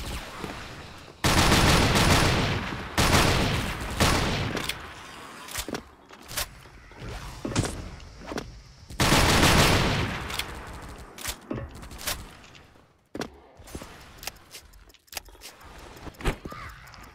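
Bursts of AA-12 automatic shotgun fire in the zombie mode of the online shooter Special Force (SF), with rapid loud volleys followed by scattered shorter shots and pauses.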